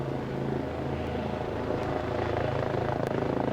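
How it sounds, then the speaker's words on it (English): Helicopter rotor and engine in the video game Mount Wingsuit 2, a steady close drone with a deep thumping low end that holds throughout, with no talking. "Oh my god, we really are dangling under a helicopter."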